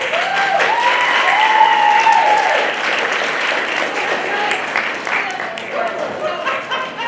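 A school audience at a sixth grade honor roll ceremony claps for an honored student, starting with loud, dense applause and thinning out toward the end. Voices cheer over the clapping early on.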